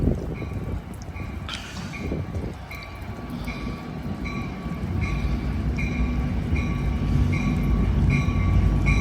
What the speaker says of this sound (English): this is Amtrak San Joaquin train 717 arriving at Emeryville station on a rainy day